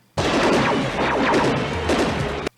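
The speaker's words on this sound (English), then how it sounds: "Those are actual gunfire sounds." A dense burst of cartoon gunfire sound effects from a G.I. Joe episode: loud, rapid overlapping shots and crashes rolling steadily for over two seconds, then a short break before another hit.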